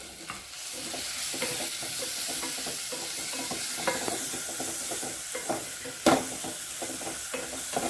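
Tomatoes are added to a hot pan and stirred while frying for a chickpea curry, a continuous sizzle broken by scraping stirs and a sharper clatter around the sixth second, with no voices.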